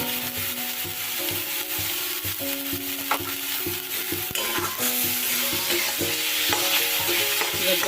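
Ginger-garlic masala stir-fries in hot oil in a pan for a pomfret fish dish, giving a steady close sizzle with repeated scraping strokes of a spatula throughout.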